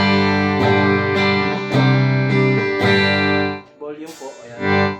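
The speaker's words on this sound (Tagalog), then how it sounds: "Bridge pickup, ito po yung tunog." Electric guitar on the bridge pickup, a run of bright strummed chords in a steady pulse, loud and up close, followed by a few quicker picked notes.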